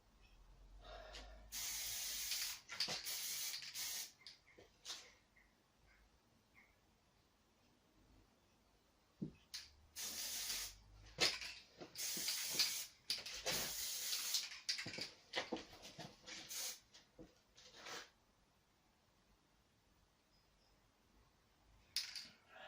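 Khaki base coat is sprayed from an aerosol onto a CZ Air Arms S200 air rifle in short, close hissing bursts separated by quiet pauses.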